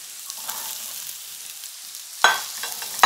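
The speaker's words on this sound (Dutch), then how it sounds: "Dan gaat dus als eerste de zoete aardappel erbij." Sweet potato sizzling and being stirred in a wok for Thai red fish curry, a steady soft frying hiss with sharper scraping bursts of stirring near the end.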